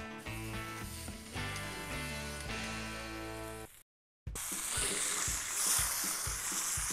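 Pork loin chicharrón pieces hit a preheated frying pan, giving a loud, steady, broadband sizzle that runs for a few seconds. It follows a stretch of background music and a brief silent gap.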